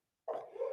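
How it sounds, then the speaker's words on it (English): A dog barks excitedly at a window in another room, a single sustained yelping bark burst that starts abruptly and stays fairly loud, heard alone with no talk over it. "if you can hear barking in the background."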